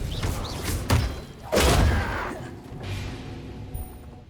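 Spells are cast in Hogwarts Legacy on the Switch during a duel, with whooshing bursts, heavy thumps and impacts in quick succession over a steady game background.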